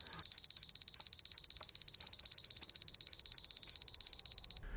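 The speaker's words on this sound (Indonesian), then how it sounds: "Di jalan, dia mendengar suara alarm." A rapid, high-pitched electronic alarm beeps in a fast even pulse for several seconds, then cuts off, fairly faint against a quiet background.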